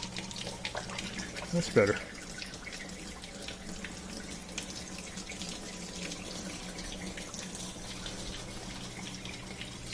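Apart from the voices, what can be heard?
water draining from Kenmore portable dishwasher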